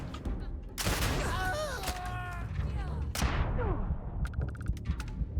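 Gunfire in Starfield, set in Neon: a few heavy, booming shots spaced over several seconds, each followed by ringing, whistling tails, with rapid clicking bursts near the end and game voices at times.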